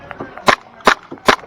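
Airsoft guns fire during an outdoor airsoft game event: three sharp, snappy pops come at an even pace within about a second, with softer clicks between them.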